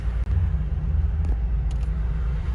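Steady low road traffic rumble of passing cars, continuous and fairly loud with no talk, a brief dip near the start.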